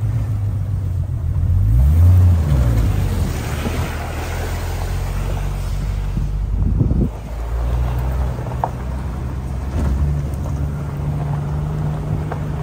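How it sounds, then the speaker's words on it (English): A jeep idles while sitting in a shallow swimming spot, its exhaust submerged, producing a low, steady rumbling burble close by, with swells in the engine note and splashing water around it. "I heard the exhaust gurgling in the water"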